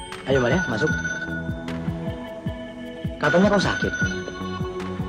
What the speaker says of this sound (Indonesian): Ketika itu bunyi telpon masih saja berbunyi.